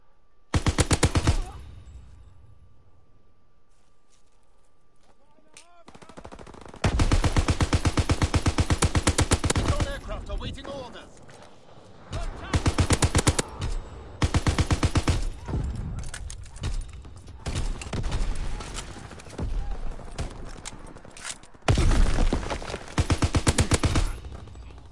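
Heavy automatic gunfire in a Call of Duty match rattles in long, loud bursts, broken by brief quieter gaps and a few single shots.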